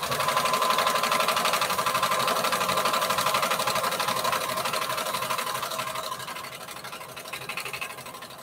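A sewing machine with a walking foot stitches layered bandana fabric for a patchwork T-shirt dress, a steady close mechanical whir with rapid rhythmic needle ticking that softens slightly toward the end.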